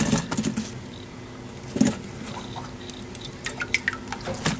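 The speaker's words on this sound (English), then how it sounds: "I'm gonna leave them out for a while so they could drain" Water drips and patters from freshly washed strawberries set out to drain, faint scattered droplets landing close by with no talking.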